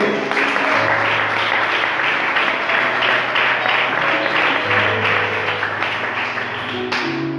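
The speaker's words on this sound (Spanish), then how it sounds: "¿Cuántos dan un fuerte aplauso a nuestro Dios?" Congregation applause in a church, a continuous dense rush of many hands clapping, loud and even for about seven seconds with a low background tone underneath.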